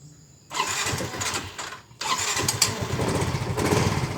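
A fuel-injected Yamaha Mio scooter engine cranks and fires up, then settles into a loud, steady buzzing idle close by, with no voice over it.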